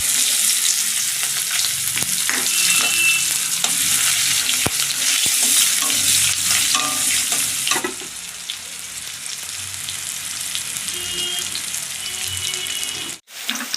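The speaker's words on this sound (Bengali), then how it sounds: "এবার এই যে একটা পেঁয়াজ কুচিয়ে রেখেছিলাম, এটা দিয়ে দিলাম।" Chopped onion hits hot oil tempered with cumin, dried chilli and bay leaf for a Bengali rui fish curry, a loud, steady sizzle that softens after a few seconds, with light stirring clinks and no talk.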